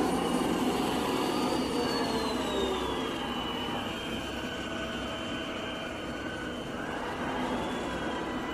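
A Deebot N8 robot vacuum cleaner runs continuously nearby, a steady whirring motor drone with shifting whine tones as its driving wheels move, no talk.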